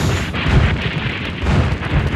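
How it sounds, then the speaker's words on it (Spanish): Insurgent cannons firing in a dramatized battle narration, loud booming blasts in quick succession with a rumbling, rolling low-end and dense close reports. "Y los cañones insurgentes hicieron tiros rasos."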